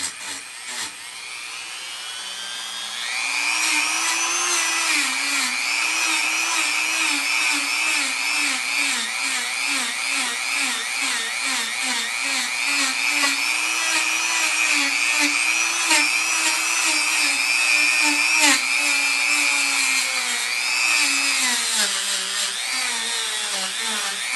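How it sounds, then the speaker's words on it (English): A small brush on a rotary tool smooths a natural-edge wooden serving platter, a high steady whine with a wavering buzz under it as pressure shifts, continuing close and loud for about twenty seconds. "This is the first thing I want to try, is like a little brush on a little rotary tool."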